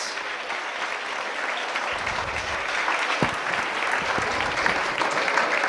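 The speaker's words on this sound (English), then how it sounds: "A big round of applause." Steady, dense applause from a lecture audience rolls on evenly for several seconds, with a few sharper individual claps standing out from the crowd.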